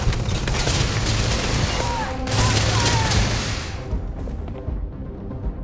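Sustained sci-fi gunfire fills a Starfield firefight, dense bursts and booms layered with combat noise and faint voices, staying loud and steady before easing off near the end.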